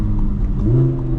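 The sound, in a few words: supercar accelerating in second gear, dual clutch transmission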